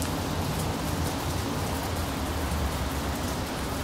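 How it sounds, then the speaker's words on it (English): Heavy monsoon-like rain falls steadily around a pearl white 2011 Mercedes-Benz, a dense, constant wash of drops drumming nearby with no pauses and no voices. "it is raining like a monsoon up here."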